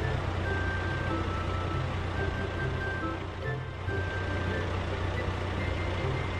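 Steady electronic reversing beeps from a cartoon fire engine with a roof-mounted water cannon, repeating over a continuous low engine rumble at a constant, fairly loud level.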